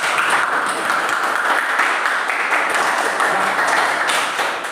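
A classroom of students applauding together, a steady dense wash of clapping that holds at an even level from start to finish with no talk over it.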